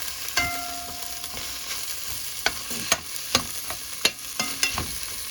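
Seasoning sautés in a pan for rice and beans cooked with coconut milk. A soft, steady sizzle is broken by sharp scrapes and clinks as a spoon stirs, and no one speaks.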